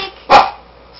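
On command, a dog lets out one short, sharp bark close up, followed by quiet.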